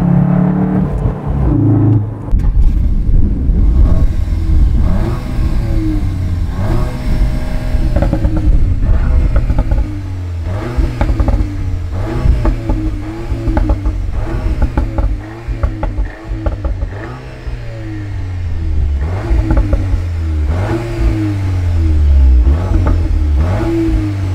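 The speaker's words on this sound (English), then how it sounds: "downshift, flips the throttle for you, and you can hear it at the back" A Cupra Formentor engine revs and drops repeatedly, with sharp automatic throttle blips and burbling exhaust pops on downshifts, loud and close throughout.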